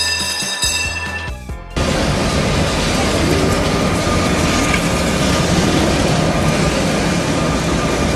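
A train rumbles past close by, a loud, steady roar with rail clatter sustained for several seconds after a brief quieter tonal opening.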